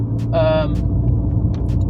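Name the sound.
Mercedes-Benz 230 Kompressor gear shift with vacuum bypass valve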